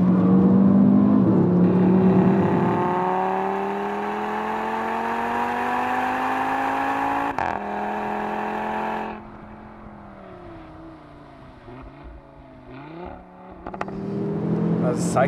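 A 2015 Audi RS3 Sportback drives on a race track, its engine revving high and then easing off in long rising and falling tones, loud and close, with someone talking over part of it.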